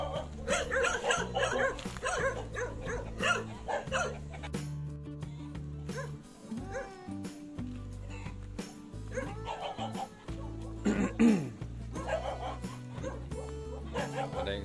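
Several dogs bark and yip repeatedly at close range on a hot day out looking at white dogs, with a background music bed running underneath.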